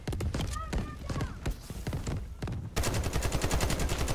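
Rapid bursts of gunfire in a first-person shooter match, with dense repeated shots growing louder and steadier in the second half, mixed with other game sounds.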